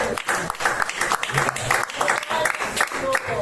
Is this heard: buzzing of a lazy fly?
no